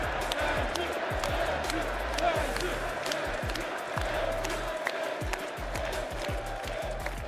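Crowd at an esports watch party for the Apex Legends ALGS Split 1 finals cheering and clapping in a roomy space, with thumps and a voice talking over it.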